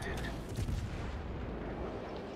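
Naval guns fire from an enemy battleship in a warship video game, heavy booming rumble rolling continuously through the short stretch, with a louder burst near the start and speech-like sound mixed in underneath.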